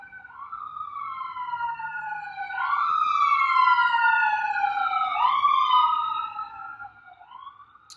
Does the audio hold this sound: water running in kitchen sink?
no